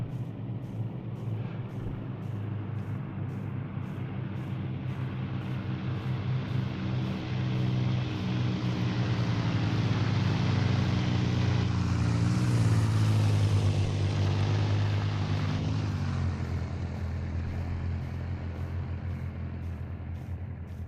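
A steady, loud engine drone from an aircraft in the Rust Console video game, holding a broad rumble that swells toward the middle and eases off again, with no one talking.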